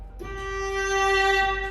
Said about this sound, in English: That's the sound of the orchestral viola.